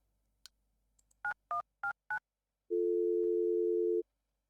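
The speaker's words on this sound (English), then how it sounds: "It sounded like 1, 2, 3, 4. Dual tone dialing system." Telephone dialing in the video game Airport CEO: four short dual-tone DTMF beeps in quick even succession, then a longer steady tone, clean and alone against silence.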